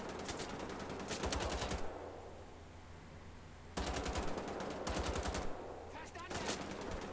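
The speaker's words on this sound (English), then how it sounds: "I'll just take the rest of them out with those machine gun" Machine gun fire in the Wolfenstein video game, heard as long sustained automatic bursts with a rapid rattling rhythm, broken by a short lull before firing resumes; the volume stays steady and fairly distant.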